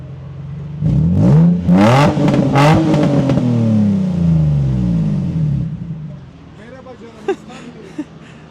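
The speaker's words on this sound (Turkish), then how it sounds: "Arkadaşlar Japonca konuşuyor ve egzozu da dinlememiz lazım." A drift car's exhaust revs hard in several rising and falling bursts, loud and close, then settles to a rumbling idle while people talk nearby.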